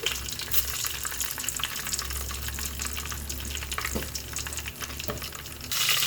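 Cumin and mustard seeds sizzle in hot oil for a yellow cucumber dal, with a continuous, even crackling fizz close by and a low background rumble, with no voices.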